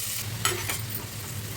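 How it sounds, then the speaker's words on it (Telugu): Thinly sliced onions frying in hot oil in a pan, a steady close sizzle with brief stirring scrapes and no talk. "అదే ఆయిల్లోకి సన్నగా తరిగి పెట్టుకున్న ఉల్లిపాయలు,"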